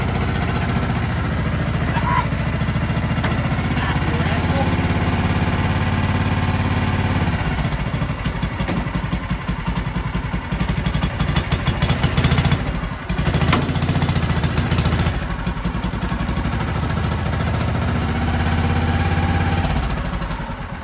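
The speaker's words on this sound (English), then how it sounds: "It's obviously idled up too high or something's going on because it's trying to grind when you put it in gear" Kawasaki Mule 550 UTV with its engine idling too high, a steady loud close mechanical drone with a rough chattering edge throughout, briefly shifting in tone partway through.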